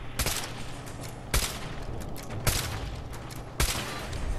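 Four loud, separate gunshots in Fallout 4 ring out at roughly one-second intervals, each a sharp crack over a low background hum.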